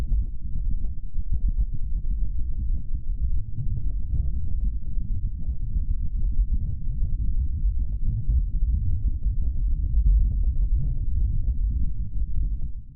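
The NASA InSight lander recorded Martian wind vibrations and a marsquake, a continuous deep low rumble with faint irregular knocks and crackles, steady and dense throughout.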